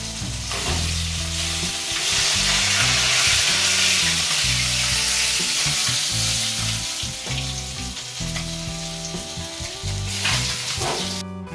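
Whole spices sizzle loudly in the oil left from frying pabda fish, a steady crackling hiss with stirring clatter throughout, close and alone.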